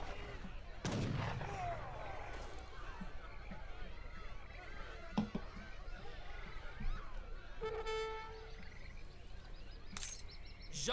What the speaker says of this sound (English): the organ guns just shredding musketeers